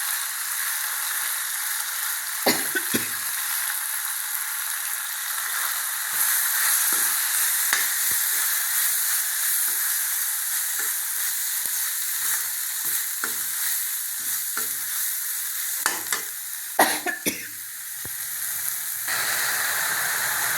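Spices such as turmeric and chili powder sautéing in a hot pan give off a continuous bright sizzling hiss, broken by occasional clicks and scrapes of stirring, with no voices.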